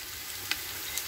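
Whole black peppercorns, green cardamom pods and cloves sizzle in hot oil with a steady close hiss, broken by a couple of faint pops.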